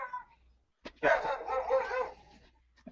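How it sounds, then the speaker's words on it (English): A dog close by lets out a burst of several quick barks and yips lasting about a second, surrounded by short stretches of quiet. "Sorry, that was my dog."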